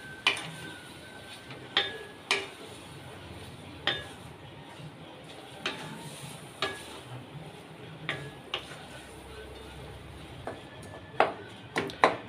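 Cooked rice being mixed into tamarind rice in a pan, with a soft frying hiss under sharp spoon clinks and taps against the metal at irregular intervals.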